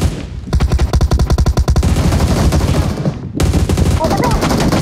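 Rapid automatic gunfire in the PUBG battle royale game on the Erangel map, in loud close bursts with a brief pause, then firing again.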